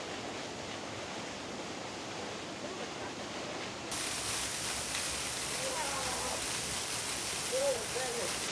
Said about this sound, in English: is a waterfall in the Berg Mountains, Crystal Falls